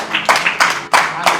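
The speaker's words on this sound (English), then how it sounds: "Please, a round of applause." Guests at a 53rd birthday celebration clap together in a quick, even rhythm, loud close claps repeating roughly three times a second.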